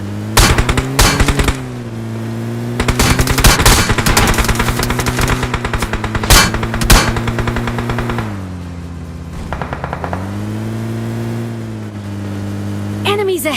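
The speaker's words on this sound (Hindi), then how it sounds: "अब ये लोग हमारे ऊपर भैया भयंकर गोली चलाते हैं, धुआं धुआं कर दिए थे गाड़ी में।" In the PUBG video game, loud bursts of rapid automatic gunfire crackle in clusters over the steady drone of a vehicle engine that shifts pitch as it drives.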